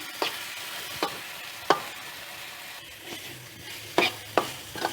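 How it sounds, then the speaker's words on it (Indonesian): Spice paste with grated young coconut stir-fried until dry for Gresik-style milkfish otak-otak, giving intermittent scraping strokes of a spatula in a pan over a faint low sizzle, close and moderately quiet, with no talking. "Panaskan sampai benar-benar kering bumbu ini"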